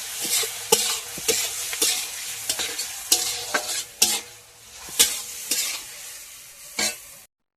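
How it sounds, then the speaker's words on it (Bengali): Chopped tomatoes with salt and onions stirred and fried in a pan for biryani: quick clattering spatula strokes against the pan over a light sizzle, near and loud, with short quiet gaps and no voices. "নুনটা দিয়ে ভালো করে টমেটোর সাথে নেড়ে কেটে দেবো"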